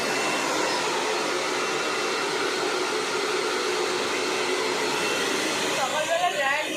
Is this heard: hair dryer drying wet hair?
yes